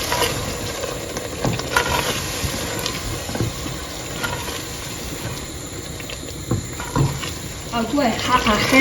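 A spoon stirs blended peppers into a pot of beef jollof rice, scraping and churning with a soft sizzle underneath, close and fairly loud throughout with a few louder clatters.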